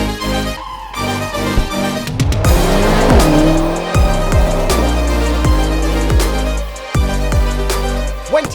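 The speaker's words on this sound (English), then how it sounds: "'21 BMW X6M Competition with launch control." A 2021 BMW X6M Competition launches from a standstill under launch control, its engine roaring loudly through rapid upshifts as tires squeal briefly, sounding close and continuous with no talking.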